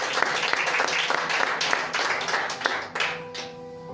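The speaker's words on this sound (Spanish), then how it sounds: "Dale un aplauso a Jesús, dale un aplauso a Cristo." A church congregation claps and applauds together, a dense steady burst of hand claps with a few sharper individual claps standing out, tapering off toward the end while faint voices and a sustained tone sit underneath.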